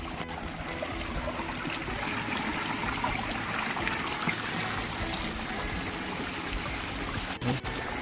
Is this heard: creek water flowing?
yes